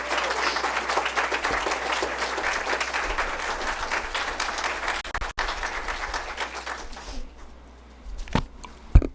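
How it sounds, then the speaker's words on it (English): Sustained applause from an audience at a school board of education meeting, dense steady clapping for several seconds that thins out toward the end into a few scattered claps. "I think all of you should give them another round of applause"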